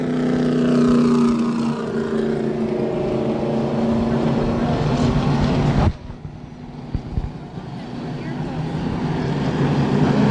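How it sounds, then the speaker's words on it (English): Race cars at New Smyrna Speedway roll around the track in a loud, sustained engine roar that drops sharply midway, then builds back up, with voices faintly underneath. "The cars get rolling."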